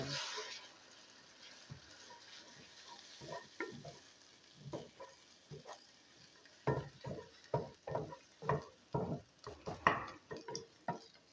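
Eggs being stirred in a frying pan, a spatula scraping in a quick run of distinct strokes over a soft sizzle, sparse and faint at first and then denser and louder near the end.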